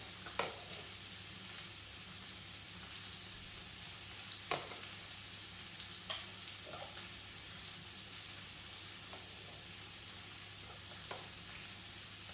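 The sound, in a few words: frying onion and pumpkin in pan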